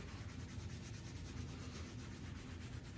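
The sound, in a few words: hands gently scrubbing the chest during qigong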